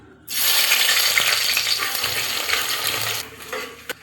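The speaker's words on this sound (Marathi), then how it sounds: "आता मी भाजीला फोडणी देऊन घ्यायला लागले. आता पहिले कांदा टाकून घेते." A sudden loud sizzle as onions hit hot oil, a steady hiss for about three seconds, then fading to softer crackling with a small clink.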